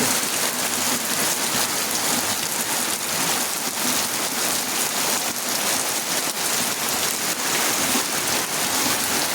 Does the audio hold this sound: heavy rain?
yes